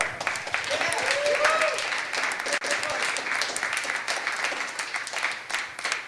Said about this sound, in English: This is just gonna be like one big continuous round of applause.